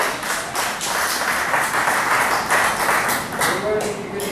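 A church congregation applauds loudly and steadily during a sermon, with dense clapping throughout and some voices mixed in.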